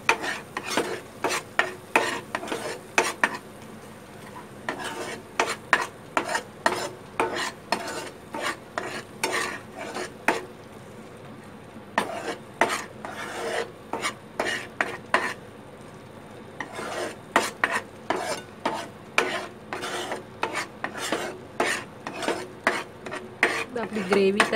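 Chole masala gravy with red chilli powder being stirred in a metal pan, a spoon scraping and clinking against the sides in quick, steady bursts, close and fairly loud, with a faint sizzle underneath and no talk.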